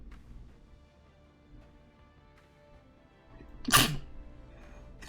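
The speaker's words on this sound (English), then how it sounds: "I need to sneeze" A single sharp sneeze bursts out near the end, loud and close, after a stretch of quiet room noise during a tabletop wargame session.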